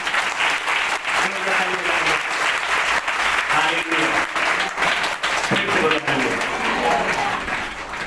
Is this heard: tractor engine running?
no